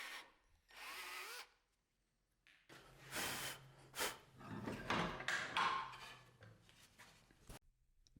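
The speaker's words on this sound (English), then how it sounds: "After careful layout, I drill into the arms as straight as I can by hand." Hand-held drill boring dowel holes into wooden arms of a glider frame, with bursts of whirring and grinding separated by short pauses, close by and fairly loud.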